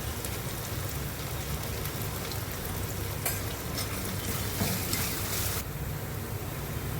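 Homemade red chili masala with turmeric and salt fries in a pan for a Malvani-style surmai fish curry, a continuous dense sizzle like rain with soft stirring scrapes, loud and close, easing slightly near the end.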